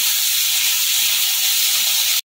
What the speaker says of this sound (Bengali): একটু নেড়ে করে হালকা একটুখানি ভেজে তুলে দেবো চিংড়িগুলোকে।